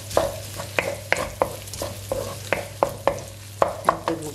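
Garlic bread sautés in a frying pan until golden and crispy, with a continuous soft sizzle broken by a dozen sharp scraping stirs at an irregular rhythm, heard close up.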